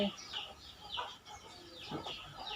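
Native free-range chickens cluck in a short, faint series of irregular calls.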